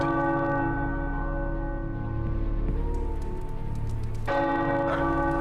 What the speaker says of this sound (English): The tower bells are ringing.